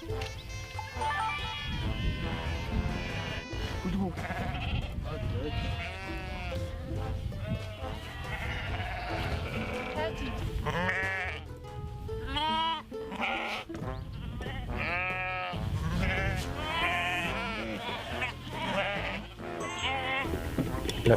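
Sheep bleat repeatedly, loud and close, at a shearing near Lake Uvs in Mongolia, with many overlapping calls over a steady background of people and flock activity.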